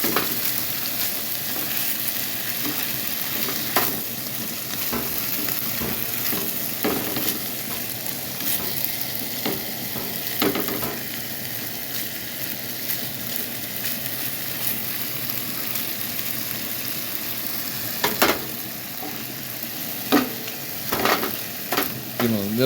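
Pieces of steak browning in a hot pan for a steak quesadilla, a constant crackling sizzle close by with scattered pops and stirring clatter, no talking.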